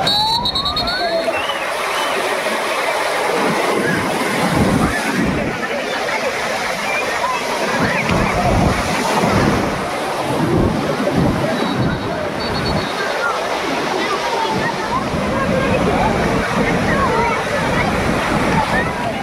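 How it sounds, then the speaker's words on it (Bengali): Large ocean waves break on the beach at Cox's Bazar at sunset in a loud, continuous roar of surf, with rushing water filling the whole scene. "কক্সবাজারের সবচেয়ে সুন্দর যে বিষয়টা সেটা হচ্ছে কক্সবাজারের বিশাল বিশাল ঢেউ।"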